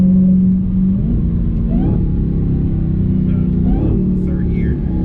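A Dodge Challenger Hellcat Redeye accelerating hard, its deep engine rumble loud and close from inside the car, rising in pitch between gear changes, with a voice talking briefly over it.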